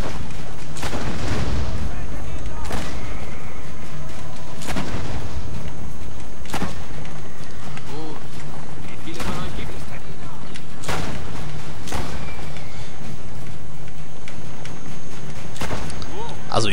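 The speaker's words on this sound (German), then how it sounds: "Explosion." Explosions and gunfire from the video game Assassin's Creed Brotherhood, with loud booms and shots landing roughly every two seconds throughout, and people talking over them.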